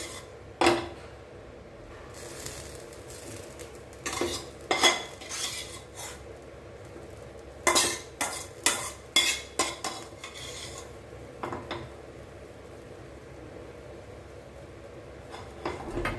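Spoon spreading masala over butter-toasted ragi bread, heard as a series of scraping, clinking strokes in several clusters, close and fairly quiet with gaps between, no talking.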